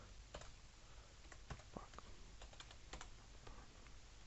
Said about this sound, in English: we can type a name